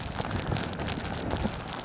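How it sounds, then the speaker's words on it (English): Steady rain patters densely on a Cornish coastal path, a continuous close hiss of drops with no voices. "it's now raining again"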